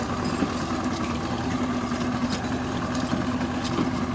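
T-25 tractor engine running steadily while pulling a Bellota/Kverneland 1-50 plough through a field, a continuous close, even drone with a low hum and no break across the whole stretch.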